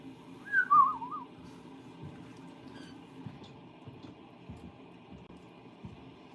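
A person whistles a short, wavering, sliding note near the start, then leaves only a quiet, low room hum in a pottery studio.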